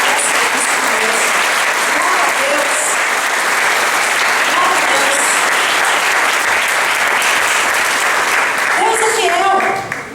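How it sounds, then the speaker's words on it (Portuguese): Loud, sustained applause from a church congregation fills the space continuously for about ten seconds, with cheering voices mixed in, then begins to fade at the very end. "Diga amém e dê um aplauso ao Senhor"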